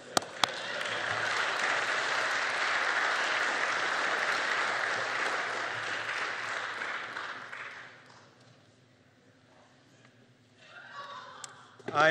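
Audience applause for a lecturer at the Christendom lectures, loud and sustained for about eight seconds before fading, followed by someone speaking.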